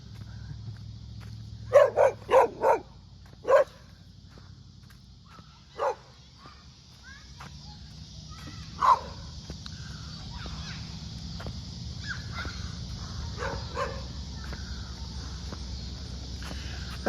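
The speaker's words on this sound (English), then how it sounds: "A nice little barking dog, just off camera." An unseen dog barks just off to the side during an evening walk through town, with a quick burst of three or four barks, then single barks spaced several seconds apart, moderately distant over a low outdoor hum.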